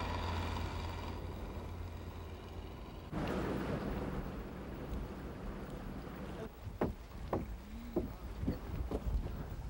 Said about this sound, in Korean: 바람이 일자 고기잡이를 나간 배들이 하나둘 항구로 돌아오기 시작했습니다